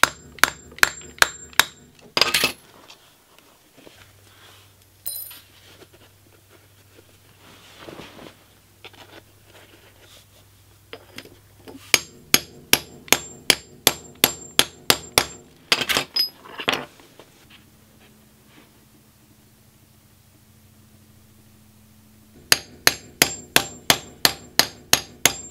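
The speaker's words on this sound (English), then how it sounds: "I'm just going to punch holes in the corners, making sure that there's enough room for the actual grommet" A hole punch is hammered into the corners of a canvas tent for grommets, giving loud, sharp metallic strikes in quick rhythmic bursts of about ten blows each, with quieter handling pauses in between.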